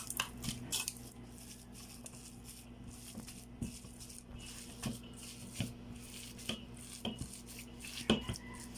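Chopped banana heart mixture with seasoning mix and MSG is worked together in a bowl, giving soft squishy mixing and frequent light clinks and taps of a utensil against the dish, close and fairly quiet.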